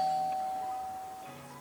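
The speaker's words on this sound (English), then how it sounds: "someone's going to ring the bell, me, obviously" A Loxone Intercom doorbell gives a single sustained electronic chime tone that holds steadily and then cuts off, with a faint lower tone following, heard alone at moderate volume.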